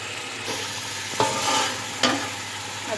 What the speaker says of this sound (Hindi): मसाला जो अभी भून रहा है